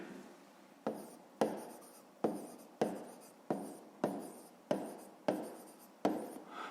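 A pen writes on paper while working a fifth-grade math exercise, with about nine brisk scratchy strokes in a steady rhythm, close and clear, with no talk.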